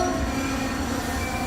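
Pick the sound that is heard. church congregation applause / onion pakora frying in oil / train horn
train horn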